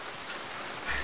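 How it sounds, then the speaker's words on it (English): Rain patters steadily in the video game Mass Effect 2, a soft even hiss of falling water that swells briefly louder at the end. "I kind of like the fact that it's raining"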